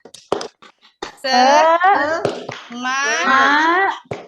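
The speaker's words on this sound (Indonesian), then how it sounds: "Tepuk tangan, tepuk semangat." Children clap hands in quick rhythmic bursts, with sung or chanted voices over much of it.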